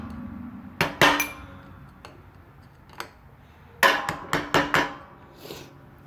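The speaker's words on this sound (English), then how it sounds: "I just take a hammer and a flathead screwdriver, give that snap ring just a couple little taps" Sharp metallic taps of a hammer striking a flathead screwdriver against a snap ring, one pair of clicks early, two isolated taps, then a quick cluster of four or five ringing hits, close and clear over quiet background.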